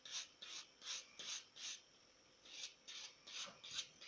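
Nail buffer rubbed back and forth over the edges of acrylic nails, giving a series of close, rhythmic raspy strokes, roughly nine short scrubbing bursts with a brief pause in the middle.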